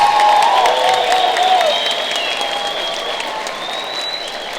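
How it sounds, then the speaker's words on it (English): A crowd claps loudly at a middle school 8th grade moving up ceremony, with a few whistles and cheers mixed in, and the applause slowly tapers off. "Another big round of applause for your 2023 8th grade Northeast Middle School students."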